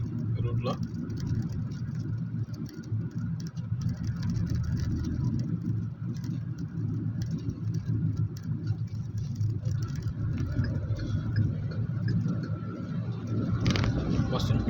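A road vehicle passes a bus on a rural highway in Andhra Pradesh, with steady engine and road noise rumbling throughout and a brief rise near the end, under continuous talk.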